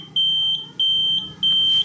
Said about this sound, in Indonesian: sekarang saya coba nyalakan sen